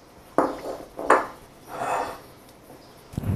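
Flour is sifted a second time through a sieve for budget soft chocolate cookie dough, giving two sharp metallic taps followed by a softer, longer rustling shake, close and fairly quiet.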